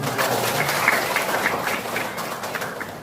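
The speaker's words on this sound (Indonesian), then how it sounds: "Boleh tepuk tangan dong buat" Students in a classroom give a short burst of applause, a dense patter of clapping that holds for a few seconds and eases off toward the end.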